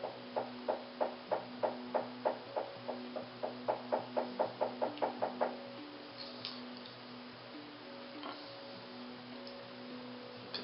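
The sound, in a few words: knocking on a wall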